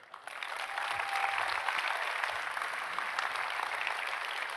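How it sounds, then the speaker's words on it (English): Sustained applause from a conference audience in a hall, a dense, steady patter of many hands clapping that swells quickly and holds at full strength throughout. "Can we have one big round of applause for everyone who organized this?"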